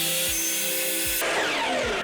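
A table saw cuts wooden planks: a steady motor whine runs alone for about a second, then gives way to a rougher, louder grinding rasp as the blade bites through the wood.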